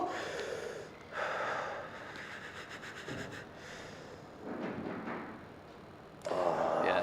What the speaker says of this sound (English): so long deep breaths